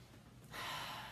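A deep inhalation, a soft airy breath that swells suddenly into a steady, full rush of air drawn in through the nose or mouth, close and alone.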